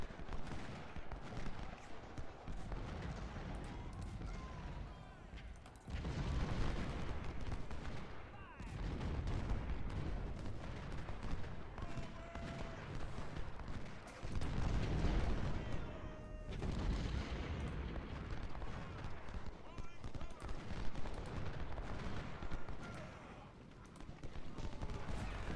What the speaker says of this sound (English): I'm going to bring these guns up some, especially the 24-pounders.